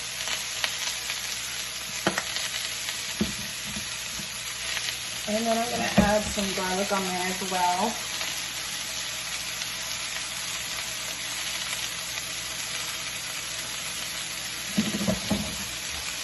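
Steady, loud sizzling of moist salmon cakes frying in a hot pan, crackling continuously throughout, with a brief spoken remark over it.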